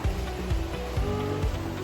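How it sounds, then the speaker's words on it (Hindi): Rain falls outside a home in Kerala as a steady, dense hiss, with a low rumble like a passing vehicle underneath it. No voices are heard. "ये देखिए बाहर बारिश आ रखी है"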